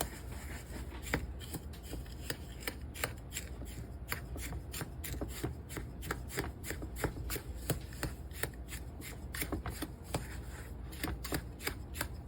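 Pecan roll filling made with sugar gets mixed together in a bowl, giving a brisk run of rapid, regular scraping and clicking strokes that continues steadily and close up, with no voices.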